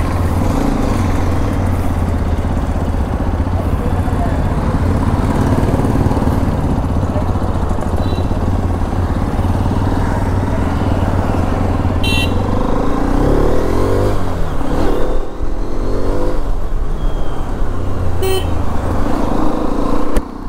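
A Hero Xpulse 200 4V motorcycle runs with a steady, deep engine and exhaust rumble for the whole stretch, loud and close. Two brief, sharp horn-like toots cut in later. No one speaks.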